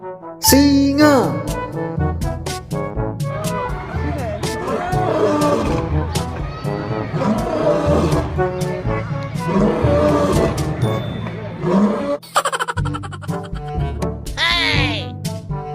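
A toy lion lets out a loud, drawn-out electronic roar, repeated in bursts over busy background music and voices.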